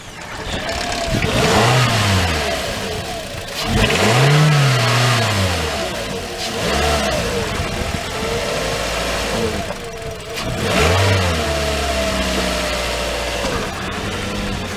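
A 2010 Toyota Corolla with about 167,000 miles runs at a towing and recovery auction lot. The engine revs up and down several times, close and loud, over a steady idle, with no talking.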